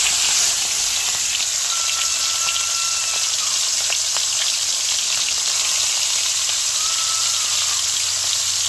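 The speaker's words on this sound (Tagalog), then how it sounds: "bali mainit na po yung kawali. Atin na po ilalagay yung isda." Fish fries in a hot pan in a dense, steady sizzle of popping oil, close and loud throughout, with no voices.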